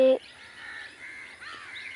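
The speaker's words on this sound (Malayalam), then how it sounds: "കുറേ തത്തൊക്കെ ഉണ്ട് കേട്ടോ കുറേ" Shrill parrot calls ring out in a few bursts after a brief loud knock at the start, moderately loud over a steady faint background hum.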